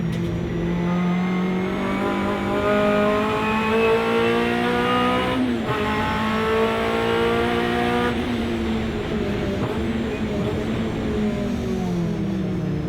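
Honda Civic and Integra hot hatch race cars racing at Silverstone in a 750 Motor Club 2018 race, with loud engines revving and changing pitch as they pass close by, layered over one another, steady and continuous.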